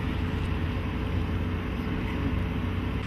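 Chrysler 383 cubic inch 6.3 litre Typhoon V8 in a 1961 Facel II, a steady deep engine drone under load, continuous and fairly even throughout.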